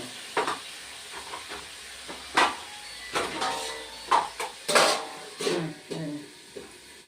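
Ground cumin sizzles briefly in a pan while a Bengali spinach dish is cooked, with soft hissing and a series of short scraping stir bursts at moderate, fairly quiet level.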